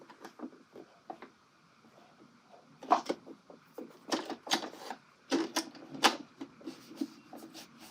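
Domestic sewing machine stitching pieces of a colorblocked angle coat, running in short irregular bursts of clatter with stops and starts, fairly close and moderately loud.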